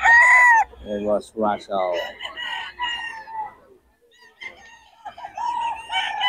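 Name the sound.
sweater gamecock rooster crowing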